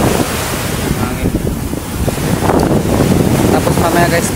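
Strong wind buffets the microphone on a pumpboat at sea with a constant roaring rush, gusting louder at times, with surf-like noise underneath.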